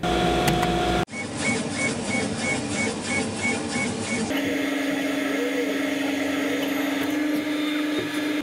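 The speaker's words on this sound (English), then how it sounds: "This is the first time we're going to be using this laser cutter, so we're going to start off with a simple design" A 100W laser cutter runs while engraving a simple test design, giving a steady, loud mechanical whir and hum from a nearby machine with no talk, shifting tone partway through as the motion changes.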